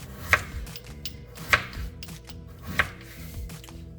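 A knife cuts potatoes into small bite-sized pieces for Surati-style batata poha, landing three crisp, evenly spaced chops on a board close by over a faint background hum.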